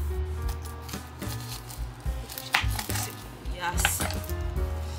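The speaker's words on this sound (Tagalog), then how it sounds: "ayusin ko na itong sibuyas. Chopin na natin ito." Knife chopping onion on a cutting board for beef steak Tagalog, a steady run of quick, close, crisp cuts with scattered kitchen clatter of pans, no talking.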